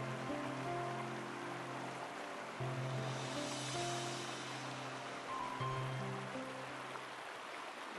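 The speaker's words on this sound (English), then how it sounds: "And start by taking in the sound of the water." Steady, gently rushing water of Oak Creek flows without pause, with a soft sustained tone humming underneath.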